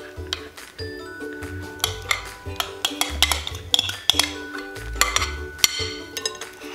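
Clinking of a utensil against a bowl as dry ingredients are mixed into wet batter for pumpkin spice dog cupcakes, a steady run of close scraping and tapping with brighter knocks scattered throughout.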